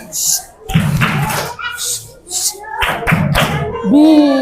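Children at a Quran-school fast-breaking gathering clap a rhythmic 'tepuk diam' chant, loud and close, with bursts of thudding claps between spoken and sung chant lines.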